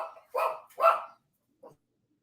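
Dog barking indoors during a podcast, two close, loud barks followed by a softer short yip, with silence between.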